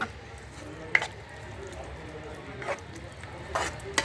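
White sauce pasta ingredients stirred together in a pan, a faint low sizzle with a few soft scraping clicks of the spoon scattered through, quiet and close.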